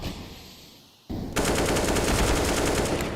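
Automatic gunfire in Counter-Strike: Global Offensive during a pro match between NAVI and Cloud9, a quiet lull then a sudden loud, continuous rattling burst that runs to the end.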